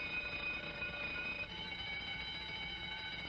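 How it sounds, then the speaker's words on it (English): Several burglar alarms across a whole area ring at once, layering steady electronic tones into a dense, unbroken wail that stays loud and even throughout, with no voices. "Sounds like every burglar alarm in the whole area is going off at once."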